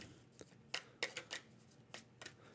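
Cards from the Endeavor: Deep Sea board game shuffled by hand at close range, several short crisp riffling bursts spread irregularly over a couple of seconds against a quiet room.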